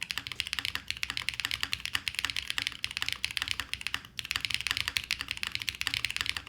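Rapid, steady typing on a QK75N mechanical keyboard, dense clacking keystrokes with a brief pause partway through, close and fairly loud.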